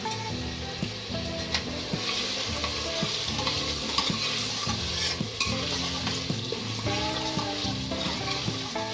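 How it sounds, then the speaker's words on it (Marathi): Masala roasting in oil in a pan, with steady loud frying sizzle and stirring throughout, alongside constant background music. "छान आता एकत्र भाजून घेऊया"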